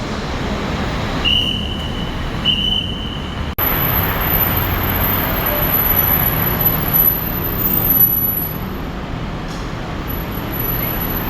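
Busy roadside outside Don Mueang airport in the afternoon, with buses and taxis idling and moving past in a continuous, moderately loud traffic wash, a sharp click breaking through briefly; no one speaks.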